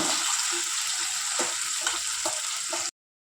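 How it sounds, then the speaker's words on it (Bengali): Eggplant frying in a pan keeps up a loud, steady sizzle while a spoon scrapes and stirs in irregular strokes. The sound cuts off abruptly just before the end. "বেগুনটা দিয়ে ভালো মতো মিশিয়ে নেব।"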